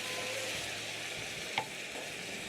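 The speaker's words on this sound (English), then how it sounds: "Then you're going to be toasting your rice for around 1 to 2 minutes." Rice toasts in a pot with a steady, soft hiss of frying, stirred with a utensil that scrapes and taps once against the pot, close and fairly quiet.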